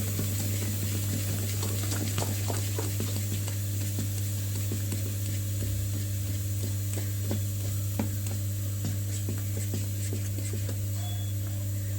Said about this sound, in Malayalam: അപ്പോഴത്തേക്ക് ഉപ്പ് നന്നായിട്ട് ഇളക്കി പിടിപ്പിക്കാം